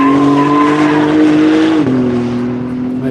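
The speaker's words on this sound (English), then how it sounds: "Making some real nice tire sounds there." A race car at speed at the Hedge Hollow circuit during the Tire Rack One Lap of America, its tires squealing in one loud, sustained screech whose pitch drops partway through, with no talking over it.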